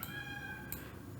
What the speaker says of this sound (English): Sorry if you hear it, that's my cat.